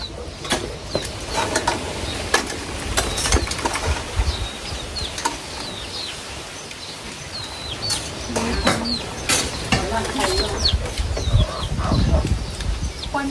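Chickens cluck and chirp repeatedly around a rural house in Laos where people are preparing household goods. Clattering and people talking run throughout at moderate distance.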